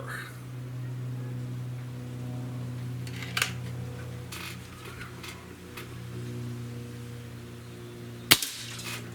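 A Cometa 94 breakbarrel air rifle fires one sharp, close shot near the end, heard over a steady low mechanical hum with a few faint rustles beforehand.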